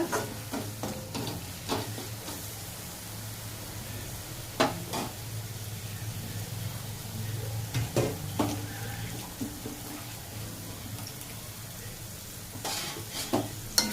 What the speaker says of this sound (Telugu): ఇదంతా పచ్చివాసన పోయి మంచిగా ఫ్రై అవ్వాలన్నమాట.